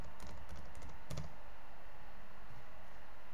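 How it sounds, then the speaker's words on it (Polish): A password is typed on a computer keyboard, a quick burst of close clicking keystrokes that fades after the first second into quiet room noise. "Tutaj usuwamy i wpisujemy swoje hasło."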